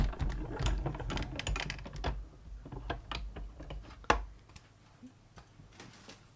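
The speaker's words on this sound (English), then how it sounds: "I might as well die cut this" A manual die cutting machine presses a paper Christmas tree shape for a handmade card, producing a close run of quick mechanical clicks and ticks with a sharper knock partway, then quieter scattered clicks.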